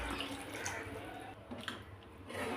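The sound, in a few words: water poured into a pan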